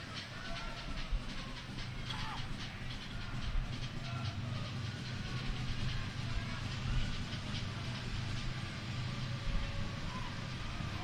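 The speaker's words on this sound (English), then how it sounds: "You might hear the train passing by." A train passing on tracks that run beside a soccer stadium during an El Paso Locomotive FC match, a steady low rumble with faint clattering held under continuous crowd noise for the whole stretch.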